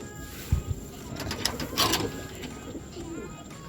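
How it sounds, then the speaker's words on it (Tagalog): Racing pigeon cooing at a derby sprint loft, a few soft low coos near the start and more murmuring calls midway, over a steady background hum. "So ayan si Tepu mga kalapatids"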